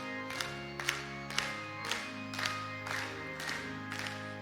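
A church congregation claps in rhythm during a hymn at a Wednesday evening dedication service. Regular claps land about every half second over sustained singing and organ-like tones, and the room sounds moderately distant.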